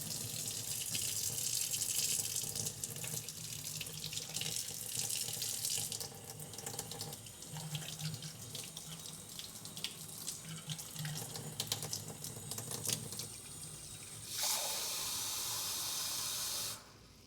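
Water running from a kitchen tap while room-temperature water is measured out for pizza dough, a steady splashing hiss that shifts in tone as the stream changes, ending in a brighter spray before cutting off.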